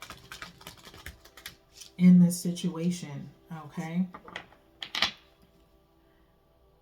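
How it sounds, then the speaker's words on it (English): Tarot cards being shuffled during a reading, with soft, clicky riffling and flicking under a person talking, ending in a brief louder burst of card noise. "shuffling by 3 here."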